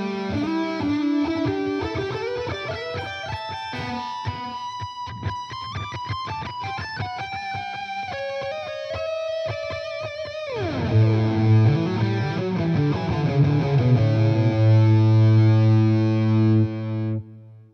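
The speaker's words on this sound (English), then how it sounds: "So it's definitely got some killer delay in it." A Fender Mustang GT 100 guitar amp on a delay preset plays a distorted electric guitar phrase, each note trailing repeating echoes, then swells into sustained low chords that ring out loud and alone.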